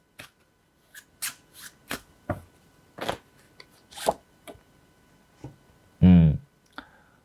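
Tarot-style soul message cards riffled and tapped in a quiet room, a series of sharp, close card snaps and flicks ending in one longer burst of shuffling.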